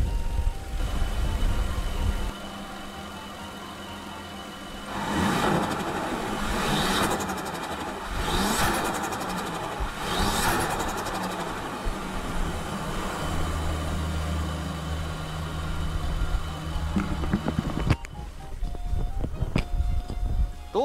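A Nissan R34 Skyline engine runs after an air filter change and airflow sensor cleaning, idling steadily with several revving surges in the middle, close and fairly loud, with brief talk near the end.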